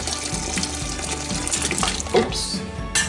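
Soft-cooked pig feet and their liquid pour in a continuous splashing stream into a pot of split pea soup, close and fairly loud.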